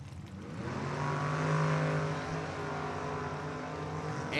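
A 6-cylinder altered and a Ford-powered altered drag car launch off the starting line at a drag race, a loud, sustained engine roar with harmonic bands that swells and holds before fading slightly.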